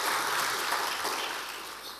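An audience applauds at a conference event in Las Palmas de Gran Canaria, a dense, loud burst of clapping that fades slightly toward the end.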